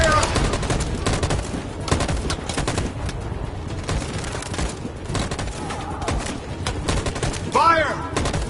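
Gunfire volleys ring out in the Detroit: Become Human video game, a dense, loud burst of repeated shots rattling continuously with a few heavier bangs and faint game sounds in between.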